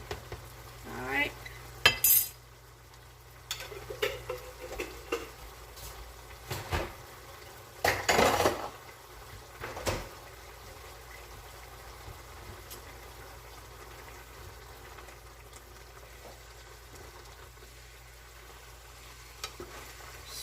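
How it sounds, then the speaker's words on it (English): Spoon scraping and clanking against a pot while Puerto Rican sancocho stew with olives is stirred, a few sharp metallic knocks and scrapes scattered over a quiet kitchen hum. "Stir that all up."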